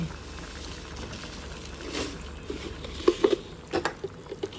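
Water boils gently in a pan with mangoes for chutney, a soft low bubbling murmur that builds into a few distinct close pops and plops toward the end, quiet overall.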